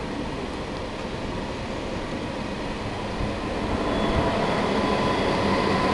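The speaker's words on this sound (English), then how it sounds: "See the fast train go there." A Eurostar train pulls out of Ebbsfleet International station with a dense, continuous rumbling roar that swells slightly toward the end, steady and fairly close, with no voices over it.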